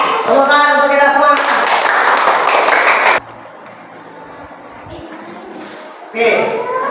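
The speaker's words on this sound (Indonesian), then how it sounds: "Tepuk tangan untuk kita semua." Children and an audience in an Indonesian classroom break into hand clapping, a dense burst of claps for about three seconds that stops abruptly, followed by quieter room sound and talk.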